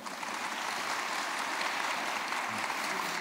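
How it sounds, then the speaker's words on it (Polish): Applause from a conference audience after a panel discussion, a continuous dense patter of many hands that holds at a steady, moderate level with no voices over it. "Jeszcze raz, wielkie brawa."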